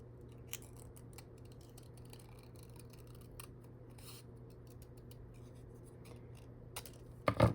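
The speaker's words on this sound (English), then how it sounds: "All right, I think we've got everything cut out." Serrated scissors cutting paper pieces for an autumn junk journal project, a quiet steady run of close snipping and rasping cuts with a few sharper clicks and a rustle at the end.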